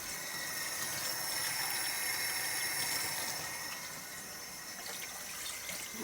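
Tap water runs from a sink faucet into a measuring cup, a steady hissing stream at moderate distance, continuous for several seconds with no talking.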